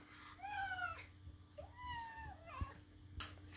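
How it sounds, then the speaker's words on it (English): A cat gives two drawn-out, plaintive meows close by, followed by a shorter whine, against a quiet background hum. "This is a sad cat. A very sad cat."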